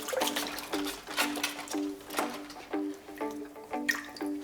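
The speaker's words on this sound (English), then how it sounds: "So I've got a sink filled with water here, tepid water, so you can just go in and give the roots a bit of a rinse." Plant roots are swished and rinsed in a sink of tepid water, giving soft intermittent splashes and drips in short repeated bursts, close and fairly quiet.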